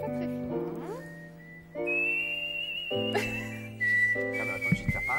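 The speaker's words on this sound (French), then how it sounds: "Tu veux siffler avec moi?" A person whistles a tune in clear sustained notes that change pitch in phrases, with a few pauses between them. A second, higher whistled line seems to join in later.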